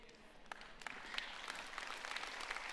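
Church congregation clapping during a pastor's sermon, a moderate steady patter of many hands filling the room, fairly distant and even with a few sharper claps standing out.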